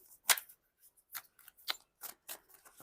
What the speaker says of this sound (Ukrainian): Дуже важко ці карти мені тасувати